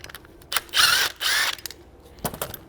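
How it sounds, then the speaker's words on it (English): A ratchet fitted with a 16 mm socket loosens the sway bar link bolts on an Audi S5 suspension. It gives two sustained bursts of rapid clicking in close succession, then a few lighter ticks and taps afterward. "we are going to use a 16 millimeter to just loosen these bolts"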